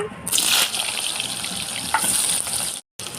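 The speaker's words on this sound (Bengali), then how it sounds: "তেলটা গরম হয়ে গেছে আগে লবণ মাখানো আছে আলুটা ভেজে নেব" Salted potatoes hiss and crackle in hot oil, a loud steady sizzle that flares at the moment they hit the pan, with a brief dropout near the end.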